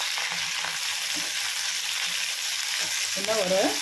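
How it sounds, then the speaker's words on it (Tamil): Brinjal and spices sautéing in a pan for a Tamil brinjal rice, a steady close sizzle with soft stirring, and someone speaks briefly near the end. "10 நிமிஷத்துக்கு வதங்கினா போதும். இப்போ அது வதங்கட்டும்."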